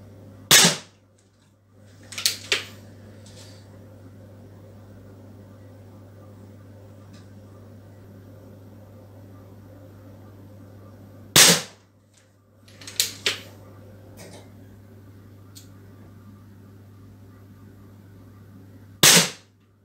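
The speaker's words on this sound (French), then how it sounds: "Là, je tire les 10 plombs vraiment à l'identique, quoi." Beeman P17 air pistol firing pellets from a rest, sharp isolated cracks with a few quicker follow-up snaps, spaced by quiet gaps over a steady low hum.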